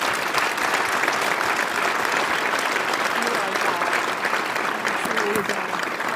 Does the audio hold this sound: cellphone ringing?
no